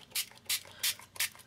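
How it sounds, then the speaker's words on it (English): Four short hissing bursts of T-Bird Turquoise stain spray from a spray bottle, evenly spaced and fairly close, misting onto green-stained material in a mixed media craft project, with no talking. "just spray with it a little bit on the green just to activate it"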